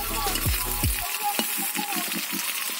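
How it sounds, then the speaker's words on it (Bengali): Onions frying in hot oil in a pan give off a continuous soft sizzle, with a couple of brief clattering stirs near the start. "পেঁয়াজটা ভাজা ভাজা করে নেব"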